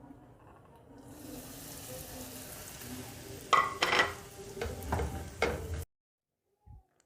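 Bread crumbs and cardamom seeds hit hot ghee in a pan, bringing a soft hiss followed by several louder spoon-stirring scrapes and clatters, then the sound cuts off abruptly.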